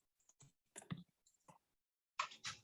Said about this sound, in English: let me actually type that in for you.